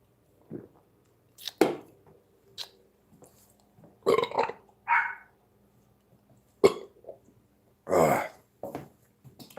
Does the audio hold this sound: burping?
yes